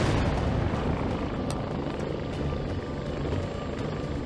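Enemy helicopters in the VR combat flight game Warplanes 3 Air Corp produce a dense, low rotor roar that stays loud and steady, with faint scattered blasts over it and no talk.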